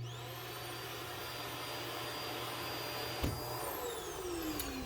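A central vacuum built into a 2022 Montana Legacy 3931FB fifth-wheel RV runs with a loud, steady close whine and rushing airflow, holding constant throughout with a faint shift in pitch near the end.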